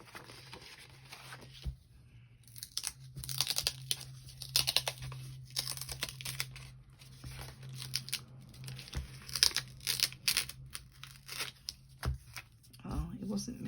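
Wrinkled plastic film on an envelope being handled for a Christmas journal, heard as close, soft crinkling and rustling in irregular bursts over a low steady hum.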